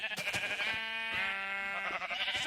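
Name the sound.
sheep bleating in a video game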